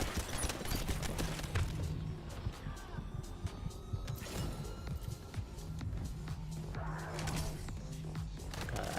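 Bursts of rapid gunfire from The First Descendant video game, crackling in repeated volleys alongside mechanical clicks and in-game effects, moderately loud throughout.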